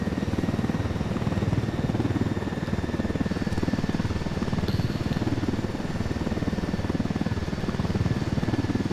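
A loud, constant helicopter rotor thrum from the video game Ghost Recon Wildlands, with a rhythmic chopping pulse filling the whole stretch, steady and close.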